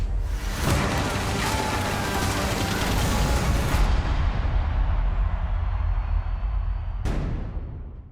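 Gunfire from a Gotham season 5 trailer: a loud, dense fusillade of shots and booms rolling continuously for about seven seconds, then an abrupt cut to near silence broken by one final sharp burst.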